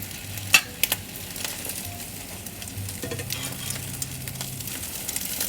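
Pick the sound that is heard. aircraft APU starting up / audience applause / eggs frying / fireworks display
eggs frying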